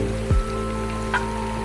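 Water flowing in a river on a village tour, a steady low rushing wash with a brief deeper gurgle near the start and a faint splash later, continuous and fairly close.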